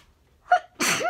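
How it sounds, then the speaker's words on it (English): A single sharp human sneeze, preceded by a short inhaled gasp, loud and close with no talking. "Oh, I think I'm going to sneeze."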